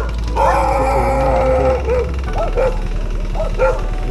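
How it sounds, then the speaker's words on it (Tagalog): Several dogs bark and yip along a road in the Cordillera, a loud, close chorus of overlapping barks and whimpering calls over a low steady engine drone. "daming aso nito!"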